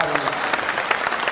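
An audience at a Jan Suraaj political gathering in Bihar claps loudly, a dense burst of applause lasting just over a second.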